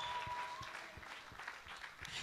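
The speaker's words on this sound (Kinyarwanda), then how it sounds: "Wakomeye Imana amashyi" A church congregation applauds, with faint, distant clapping in a loose rhythmic pulse that carries on steadily without voices.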